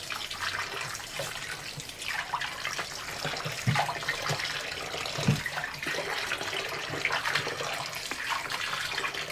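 Wheat flour dough is washed and kneaded in water to make gluten for a vegetarian pork filling, producing continuous close sloshing and splashing with intermittent squelches and no speech.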